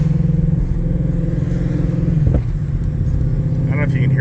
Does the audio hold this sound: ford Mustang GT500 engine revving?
yes